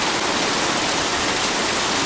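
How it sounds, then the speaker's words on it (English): A heavy rainstorm pours down, a dense, unbroken hiss of water that stays loud and even from start to finish with no voices. "It started raining."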